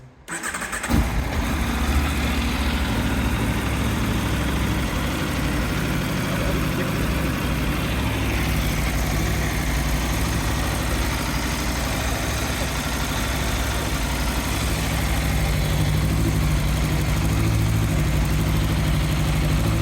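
A brand-new, zero-mile stock Aprilia RSV4 1100 sport motorcycle engine fires up and settles into a loud, rumbling idle, steady and close, with slight throttle variation throughout.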